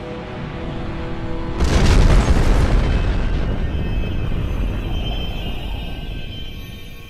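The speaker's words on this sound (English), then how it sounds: "Main base of the Blues has been completely destroyed by atomic bomb" An atomic bomb goes off in Minecraft and levels a base. A sudden loud blast swells into a long, rumbling roar that slowly fades over several seconds, with no talk.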